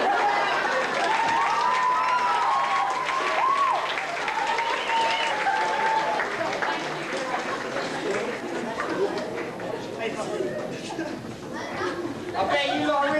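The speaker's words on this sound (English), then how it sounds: "I bet you lot are really tired of clapping now." Sustained audience applause at a school production of Guys and Dolls, dense steady clapping from a full hall with cheering and chatter mixed in, fading slightly before swelling again.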